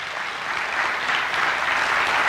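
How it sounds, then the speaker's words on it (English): Church congregation applauding the worship musician, a steady, full wash of clapping in a large room that swells slightly and continues without talk. "Give him a round of applause."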